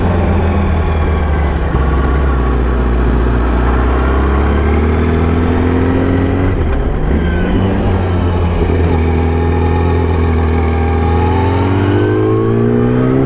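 A Yamaha R6 motorcycle engine revs hard on a ride down winding curves near Torreglia. The loud, close engine note climbs and falls in pitch through repeated throttle changes, with steady wind rush and no talk.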